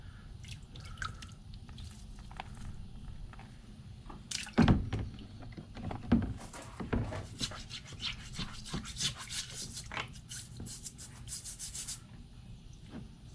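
A soft bristle brush scrubbing a Civil War revolver found metal detecting, with close, irregular wet rubbing and scratching strokes, some sharper scrapes, and no talk.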